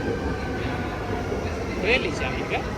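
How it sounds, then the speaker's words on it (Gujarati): An underground subway train arrives at a station in Germany, a steady low rumble filling the platform with faint squeals near the end. "ફાઇનલી જો ટ્રેન આવી ગઈ છે"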